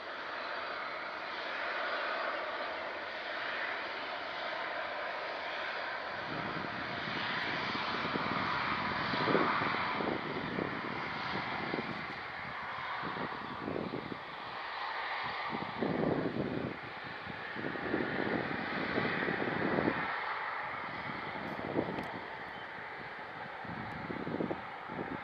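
A small Aer Lingus regional airliner at Manchester Airport: a sustained, distant engine drone with fluctuating wind noise, its rumble swelling and fading over the span.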